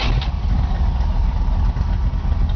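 A 1950 Oldsmobile Futuramic 88 Deluxe fitted with a 1972 455 Rocket V8 runs loud and close, a rough, steady idle rumble right after starting.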